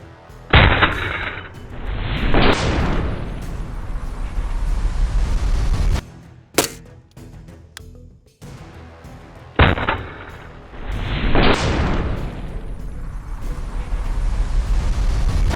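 Two bursts of 5.56 rifle fire from an LMT Spec War carbine, each a sharp loud crack with a rolling echo, separated by a quieter stretch with a few faint clicks and thumps.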